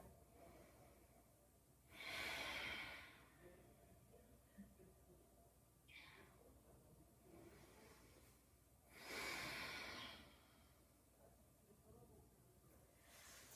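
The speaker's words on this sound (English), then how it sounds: "Breathing here." Slow, audible breaths during a guided yoga stretch, two strong exhale-like bursts about seven seconds apart, fairly close and quiet against a low background.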